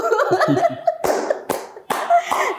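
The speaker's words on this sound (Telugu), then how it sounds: "so on this note, slow clap for you" Slow, deliberate hand claps, about four of them spaced roughly half a second apart, come through loud and close. The first stretch carries someone talking, and voices continue faintly beneath the claps.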